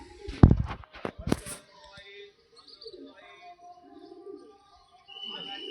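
A Fulshira pigeon gives faint, low cooing after a few sharp knocks and rustles from handling nearby.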